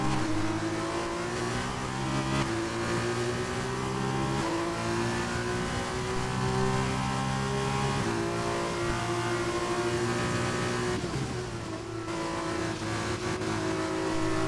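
Racing cars in a French league sim-racing game rev and accelerate continuously, with steady loud engine drones that rise and shift in pitch as gears change, close and alone without talk.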